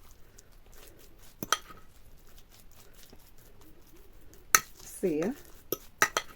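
Metal frying pan clinks and clatters in a few sharp, separate knocks, with a short scraping sound and a brief spoken word, as oil goes in for frying lazy pies.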